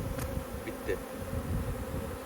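Honeybees buzzing around a hive in an apiary, a faint steady drone with a few individual bees passing close by.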